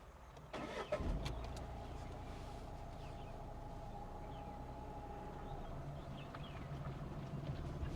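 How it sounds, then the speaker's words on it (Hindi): A car's engine turns over and catches, then settles into a steady idle, heard close by during a driving lesson on a rough road with no talking. "स्टार्ट कीजिए गाड़ी को,"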